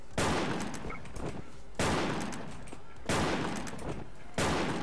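Gunfire in a video game: four evenly spaced loud, booming bursts, each with a short rumbling tail, close and dominant, with no clear talk.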